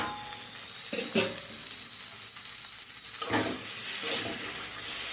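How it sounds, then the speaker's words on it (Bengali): Taro stolon with shrimp cooks in a covered pan on a low flame, giving a quiet, steady simmering sizzle with a couple of brief clinks and bumps. "একদম লো ফ্লেমে রেখে আমি এটাকে আরো ভালো করে বয়েল করে নেব।"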